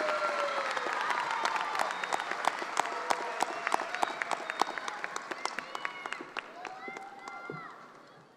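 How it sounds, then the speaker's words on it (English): At a high school graduation ceremony an audience keeps up steady applause with many individual claps. It sits in a large reverberant space, and some cheering and crowd noise mix in before it tapers off. "Give a round of applause for our next Excalibur Award winner, Alexa Gonzalez"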